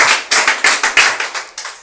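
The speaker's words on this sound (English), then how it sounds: "please, a round of applause for our government." Clapping from a small audience in quick, even claps, about six sharp claps in under two seconds, fairly loud with no talk.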